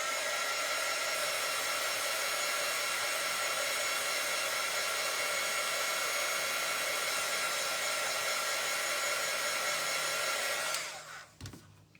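A steady, close hair dryer roars without a break while drying paint on a DIY love bird house, then switches off near the end, leaving a few small handling sounds.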